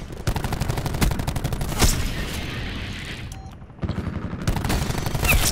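Gunfire in Call of Duty: rapid automatic bursts rattle loudly up close, stop briefly amid a mechanical clank and short beeps, then resume in fast bursts.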